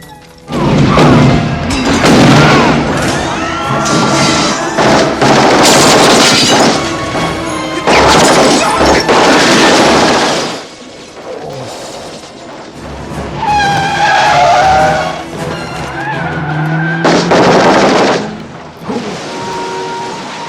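Loud gunfire aimed at a car in the 1987 film Lethal Weapon, with booming impacts, crashes and screeching tires in dense bursts and a short lull midway.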